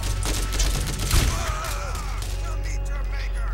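Shotgun blasts in the video game Borderlands, a loud burst of heavy booming shots early on that fades into a rumbling tail, with a voice speaking over the gameplay.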